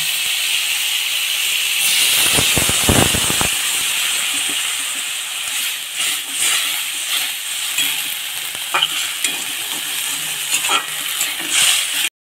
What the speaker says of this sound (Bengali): সাজনা কষানো হয়ে গিয়েছে, এখন আমি জল দিয়ে দিব।